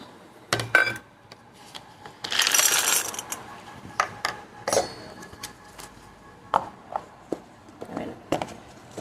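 Hard fennel seeds and sugar crystals clatter and rattle into a mixer jar in a kitchen, a bright rushing pour followed by scattered clicks and taps of the jar and spoon.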